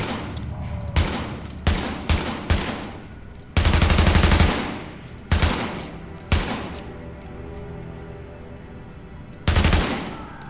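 Bursts of submachine gun fire at an indoor shooting range in The Division, several loud rapid volleys of varying length separated by short pauses, with no talk.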